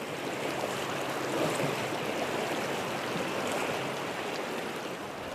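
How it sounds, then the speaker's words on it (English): A swift-flowing tributary north of the Yangtze in China rushes with a steady, dense wash of moving water, constant in loudness and heard alone without voices. "crosses a swift-flowing tributary north of the river"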